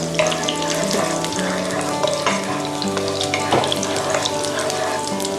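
Crushed ginger frying in hot oil in a home kitchen while preparing Thai fried chicken rice, a steady dense sizzle with small pops and crackles, close and continuous throughout with no talk.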